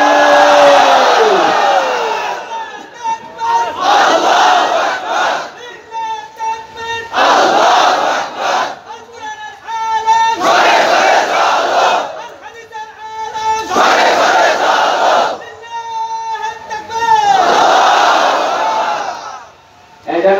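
A large crowd at a Bangladeshi Islamic sermon roars "Allahu Akbar" in loud, repeated collective shouts, about five swelling bursts separated by brief pauses.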